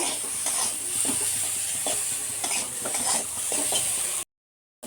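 Red lentils are stirred and dry-fried in a pan with very little oil for a jute-leaf dal, giving continuous close scraping and soft sizzling with repeated spoon strokes against the pan, then silence near the end.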